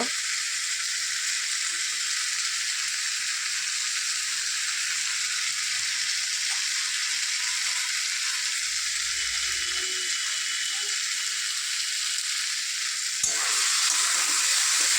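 A spice masala with cumin powder sautés in a hot pan, giving a steady, even sizzle and hiss that holds throughout and brightens slightly near the end; there is no talk.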